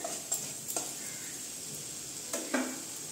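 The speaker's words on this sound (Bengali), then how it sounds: "এখন এইগুলোকেও সবগুলোকে আমি মশলাগুলোকে সঙ্গে কষিয়ে নিচ্ছি" Coriander and chilli powder spices sautéing in oil for a Bengali garlic recipe, a soft steady sizzle broken by a few sharp spatula scrapes and stirs near the start and end, close and alone.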